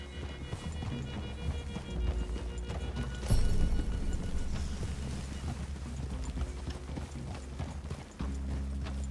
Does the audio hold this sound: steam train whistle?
no